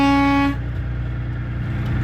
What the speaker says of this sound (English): I have my air horn.